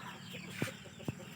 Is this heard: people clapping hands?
no